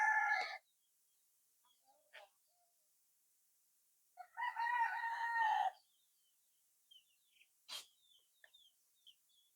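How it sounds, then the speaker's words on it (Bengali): Native chickens and roosters in a farm coop: a rooster crows in short bursts, one near the start and a longer one midway, with scattered soft clucks and small noises in between against a quiet background. "এই দেশি মুরগির ঘরের ভিতরে কিছু মরগ আছে"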